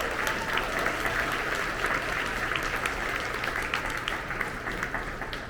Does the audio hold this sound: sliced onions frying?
no